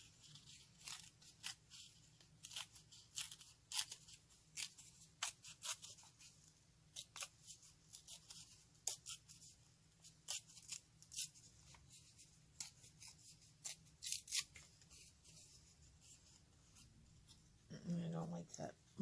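Paper being cut or torn around a printed image for a junk journal tag, a series of faint close crisp snips and rips in irregular bursts, with someone speaking quietly at times.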